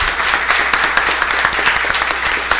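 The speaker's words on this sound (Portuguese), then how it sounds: "É bom a gente pedir uma salva de palmas aqui para todos os homenageados de hoje" A crowd applauds steadily at a municipal council session, a dense patter of many hands clapping together at moderate loudness without pause.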